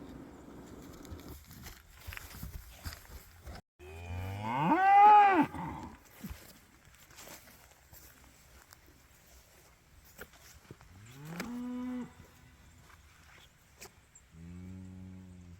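Cattle on a small farm in Maine moo around a newborn calf, with several long bellowing calls at intervals, some nearer and louder than others, over faint rustling and footsteps.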